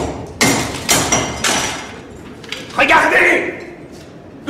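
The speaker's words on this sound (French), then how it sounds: "prenez ce gros marteau, cassez-le." In a French audio drama, a big hammer smashes a sealed crucible with three loud, sharp blows in quick succession, followed by a voice and clattering.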